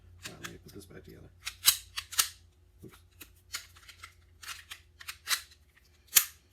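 A WE Tech Makarov airsoft pistol is put back together by hand, with sharp metallic clicks and snaps, small parts scraping, and a few louder slide clacks, close up, while someone talks softly at the start.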